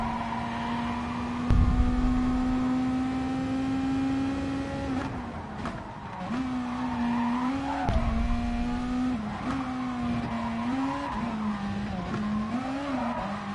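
A Gran Turismo Sport race car holds a steady high engine drone down a straight, then shifts and revs in rising and falling swells through a series of turns, with occasional thumps and tire noise, no talking.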